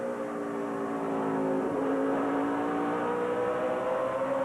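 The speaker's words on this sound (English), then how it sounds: "You hear Harvick pick up the throttle" Kevin Harvick's NASCAR stock car at the 2008 Food City 500 picks up the throttle, its engine note climbing steadily over the constant roar of the surrounding field, loud and sustained with no pause.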